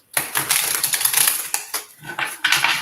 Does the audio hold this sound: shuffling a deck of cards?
yes